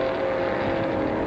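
A Big Mustang race car, number 98, roars around the Gimli Motorsport Park road course in 1982, a sustained steady engine note held at high revs, fairly close and loud with no talk over it.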